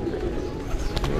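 Pigeons coo softly in a brief burst at Basantapur, with a faint voice in the background.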